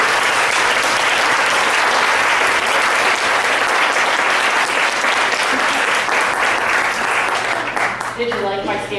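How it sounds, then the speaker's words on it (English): Symposium audience on its feet giving a standing ovation, dense sustained applause filling the room loudly and evenly throughout, with a few voices surfacing near the end. "Now, I would like for you all to stand and clap for yourselves."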